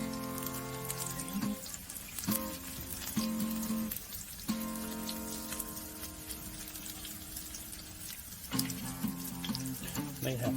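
Chicken egg rolls frying on a Blackstone griddle, a steady crackling sizzle with intermittent tonal hums and a few clanks as they are turned, faint voices in the background.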